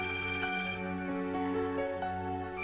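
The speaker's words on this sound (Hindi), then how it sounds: "आयान का फोन आ रहा है" A phone rings with an incoming call, a steady melodic ringtone with sustained tones, playing alone at moderate volume for a couple of seconds.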